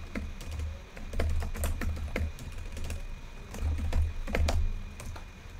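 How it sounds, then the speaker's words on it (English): Keys on a computer keyboard clack in irregular bursts of taps while code is typed for a Roblox Studio script, close and steady, with short pauses between runs and no voices. "let's start typing now"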